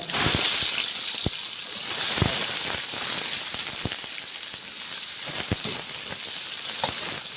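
Sliced onions fry in hot oil with popped mustard seeds and dried red chillies for Pallipalayam chicken, giving a close, steady sizzle broken by scattered sharp crackles and pops, with no voices.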